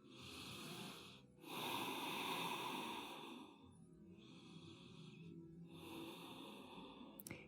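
Slow, deep breaths during a yoga exercise, close and airy, with long breathy inhales and exhales rising and falling in a calm rhythm.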